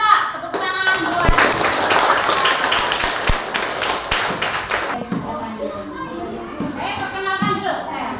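Schoolchildren in a classroom break into a burst of hand clapping lasting several seconds, mixed with lively kids' voices and chatter before and after.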